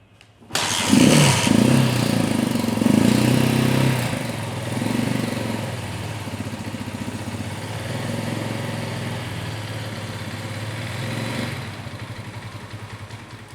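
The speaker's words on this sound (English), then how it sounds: "to kickstart your bike" A Janus 250 motorcycle is kickstarted and catches, its single engine revving loudly at first and then settling into a steady, close putter at idle.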